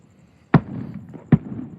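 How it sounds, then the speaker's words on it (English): Two sharp fireworks bursts crack over the Moon Valley Country Club in Phoenix, Arizona, spaced under a second apart, each trailing off into a soft rumbling echo. "Moon Valley, Phoenix, Arizona. Moon Valley Country Club fireworks."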